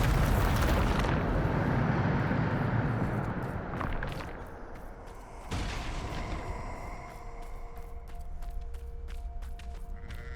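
A Bombarda blasting spell explodes in Hogwarts Legacy, a loud broad roaring blast that decays over about four seconds, followed by a second fainter thump and a scatter of small clicks.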